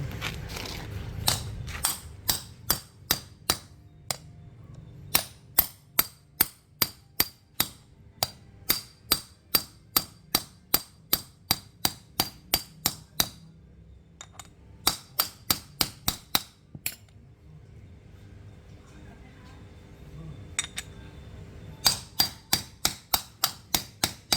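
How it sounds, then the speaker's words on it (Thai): A hammer taps a new pulley bearing into place on a Chevrolet Colorado with the 4JK1 engine, part of an air-conditioning belt tensioner job: loud, sharp metallic strikes in steady runs, with short pauses between bursts and no talking. "เวลาตอกเข้านะครับ ให้ตอกรูนอกนะครับอย่าตอกรูในเด็ดขาด"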